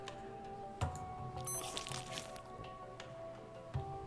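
Eating food in the survival game Stranded Deep: a short wet squish and crunch around the middle, with faint clicks and background ambience, alone without talk.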